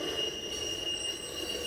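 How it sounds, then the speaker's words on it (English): An empty coal train rolls across the historic stone Thomas Viaduct of the B&O Railroad in Relay, Maryland, with a continuous, moderately distant rumble and sustained high wheel squeal. "It turned out that the southbound was an empty coal train"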